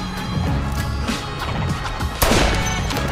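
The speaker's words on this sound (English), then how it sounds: "Was that a gunshot?" Gunfire in a Saints Row video game trailer, a sharp crack near the end rising over a dense, loud backdrop of music and effects.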